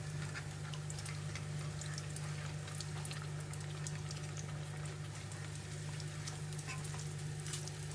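Food fries in a hot pan for a simple home-cooked curry dish, a steady close sizzle with crackling pops running continuously without talk.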